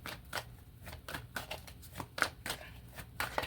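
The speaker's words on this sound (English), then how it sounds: "I'm gonna shuffle this some more." Tarot cards being shuffled by hand in a quiet room, a run of soft, papery riffling bursts repeating every half second or so, close and fairly faint.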